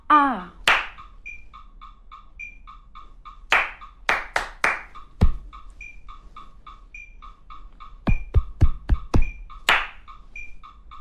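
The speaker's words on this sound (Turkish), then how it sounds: "daha çok parmak şıklatma, göğse vurma, karnı kullanma, biraz ses ve alkış kullandık daha çok" Body percussion made with sharp hand claps, finger snaps and chest hits, played in rhythmic bursts and quick runs, with a soft repeating electronic tick pattern running underneath.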